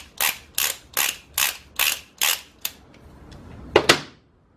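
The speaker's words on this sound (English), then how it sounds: "Make sure you take the tension off of your torque wrench" Torque wrench being adjusted to release tension during a Ford FE stroker engine lower-end build, seven crisp evenly spaced ratcheting clicks up close, then a quieter pause and a final pair of sharp clicks.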